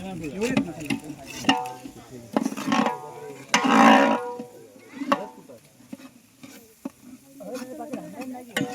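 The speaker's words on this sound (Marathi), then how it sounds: "वाटाण्या बटाट्याची भाजी बनवणं चालू आहे म्हणजे फोडणी देतात" Tempering being done for a pea and potato curry, with spices sizzling and spattering in hot oil, a loud burst around the middle, and scraping stirs throughout, all under background chatter and kitchen noise.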